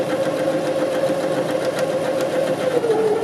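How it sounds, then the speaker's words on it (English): A sewing machine runs steadily, stitching fabric for gathers in a row parallel to an earlier line of stitching, with a continuous close motor whir and a fine rapid needle rhythm, alone without talk. "we're going to come back and sew this in the opposite direction"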